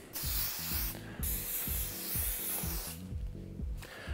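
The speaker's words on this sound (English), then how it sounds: "I'm just using my hairspray just to secure this just a little bit more." Hairspray hisses in short bursts onto a super-sized side ponytail, close and clear, pausing briefly between sprays while a soft tone hums underneath.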